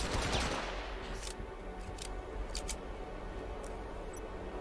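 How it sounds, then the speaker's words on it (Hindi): Several gunshots are fired into the air at a train station in Hitman Absolution, a loud burst at the start followed by spaced single cracks. "इसलिए हवाई फायरिंग की है"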